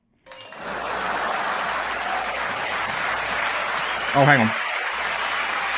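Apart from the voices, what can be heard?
applause sound effect from a podcast soundboard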